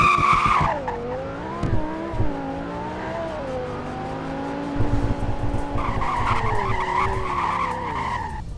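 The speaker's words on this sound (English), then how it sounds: "Here's how it sounds. Same as a normal Huracan, but... Zero to 100 and braking test." Lamborghini Huracan in a Roblox driving game, its engine rising and falling in tone through a full acceleration run before tires screech under hard braking, loud and continuous with no talk.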